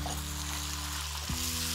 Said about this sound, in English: You'll hear it sizzling now.